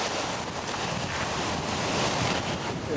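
Heavy ocean surf crashes continuously around a surfer, a dense, close roar of breaking waves mixed with wind buffeting the microphone, steady and loud with no speech.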